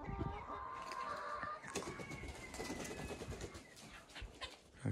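Sussex and Lohmann chickens clucking in a backyard garden, soft scattered clucks and bird calls with low background noise, fairly faint and not too close.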